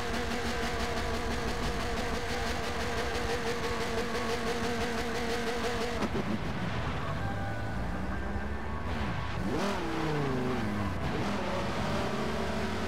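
Racing car engine in Forza Motorsport on the Road America track, a steady droning roar with gear-change pitch sweeps in the second half, loud and continuous with no talk over it.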